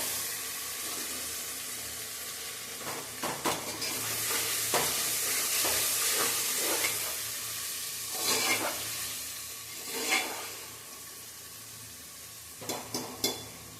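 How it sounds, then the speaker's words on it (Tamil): Onions and tomatoes sauté in a pan with a steady sizzle, broken by repeated scraping stirs and clinks of a spoon against the pan, fairly close with no talk. "இந்த அளவுக்கு வெங்காயம் நல்லா வதங்கி வந்துருச்சு"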